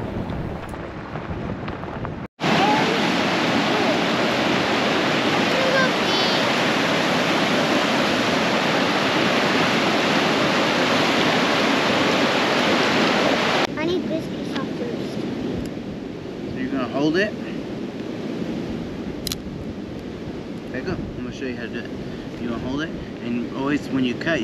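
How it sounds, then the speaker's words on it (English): Steady rushing water from a creek beside a primitive campground on the west side of the Snowy Range, a loud continuous broadband roar that later drops to a softer flow with light rustling, close to the microphone. "The primitive campground was right on a creek"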